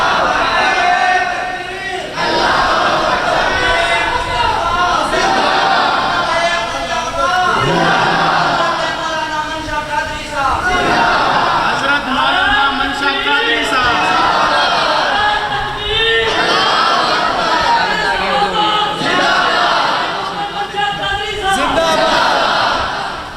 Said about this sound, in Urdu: ایک مرتبہ پھر محبت سے بلند آواز سے بولے سبحان اللہ